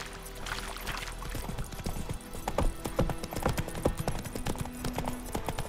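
A horse gallops in The Witcher 3: Wild Hunt, with rapid, close hoofbeats thudding in a steady rhythm over continuous game ambience and music, plus a brief whinny.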